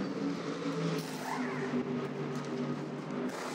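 A Mercedes GT race car in the 2021 GT World Challenge Europe Sprint Cup roars by on track, a loud continuous engine note with a slight pitch shift as it passes.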